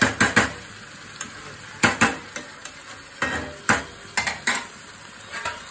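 Chicken for biryani cooking in a pot, with a spoon clattering and scraping against the metal in quick, uneven strokes over a faint sizzle, close by.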